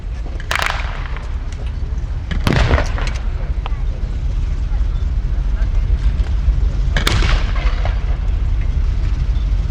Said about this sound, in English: the guns fire now, they've committed themselves